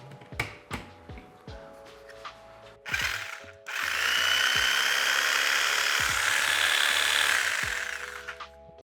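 A cheap $27 corded jigsaw starts up after some handling knocks and runs loud and steady for about five seconds, then winds down, with clicks and bumps around it.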